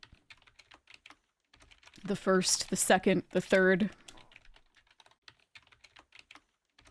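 Typing on a laptop keyboard in the video game Urban Myth Dissolution Center, a quick, light clatter of key taps that runs throughout, interrupted by a short stretch of spoken dialogue in the middle.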